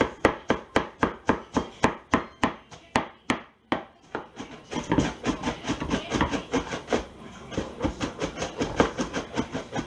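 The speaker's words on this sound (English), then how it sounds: "let's go ahead and get this part chopped up" Cabbage chopped by hand with a knife for coleslaw: about a dozen sharp, evenly spaced board strikes come first, then a faster, denser run of cuts continues close and loud.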